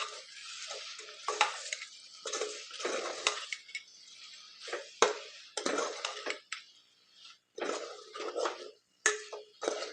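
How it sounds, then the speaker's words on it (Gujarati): Tomatoes being stirred into a parwal (pointed gourd) curry in a pan, with repeated scraping stir strokes and light clinks over a soft sizzle, close up, with no talking. "હવે અંદર આપણે ટામેટાં નાખી દઈએ. હવે પાછું બરોબર મિક્સ કરી લઈએ."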